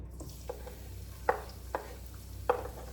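Garlic and ginger sauté in a pan, a faint low sizzle under a few light clinks and scrapes of stirring, spaced out irregularly and close by.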